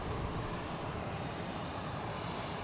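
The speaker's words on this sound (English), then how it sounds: "And we have United Airlines taking off, heading to Chicago." A United Airlines airliner takes off from Boston Logan, its jet engines producing a steady, loud broadband roar that holds constant throughout with no voices over it.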